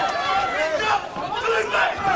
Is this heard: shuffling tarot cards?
no